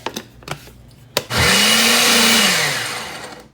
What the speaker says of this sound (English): A little bit of vinegar like this. And then we're gonna go ahead and blend it